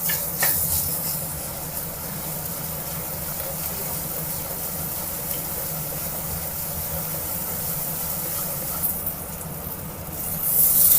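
Ginger garlic paste frying with softened onions in a pan for chicken kuzhambu gives a steady, continuous sizzle that holds level and fairly close for the whole stretch, with no voices.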